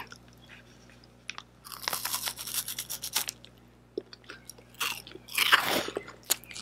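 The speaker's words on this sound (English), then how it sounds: "they all have chocolate on the outside, and then that nice wafer when you bite it on the inside." Loud close crunching as a chocolate-coated wafer is bitten and chewed, crisp snaps and grinding bursts in uneven clusters separated by quiet pauses, with no talking.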